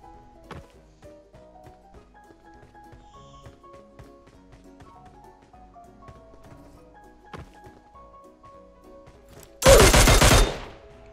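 Gunfire in the mobile battle royale PUBG Mobile, a sudden loud burst of shots near the end after a long stretch of quiet game music and light thuds.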